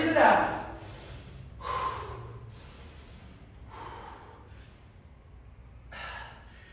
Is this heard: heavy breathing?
yes